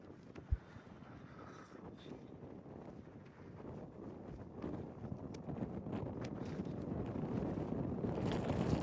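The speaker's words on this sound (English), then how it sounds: "Good breeze blowing" Steady wind rushes over the exposed summit of Mount Moosilauke in New Hampshire's White Mountains, a low buffeting roar against the microphone that builds gradually, with a single brief knock near the start.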